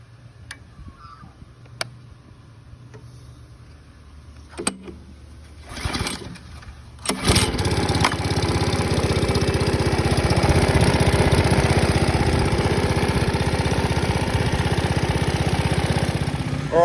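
A lawn scarifier, a Predator or a Scott Bonnar machine, is run over a home lawn. A few light clicks and knocks come first, then the engine starts and roars loud and steady until the end.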